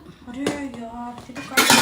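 Metal clanks and scrapes as someone struggles to fit the lid onto a pressure cooker in a home kitchen, with a few sharp close-up clatters between short bursts of voices talking.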